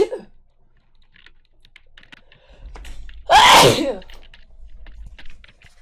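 A single loud, sharp sneeze bursts out in the middle after a quiet stretch, with faint clicking of a computer keyboard before and after it.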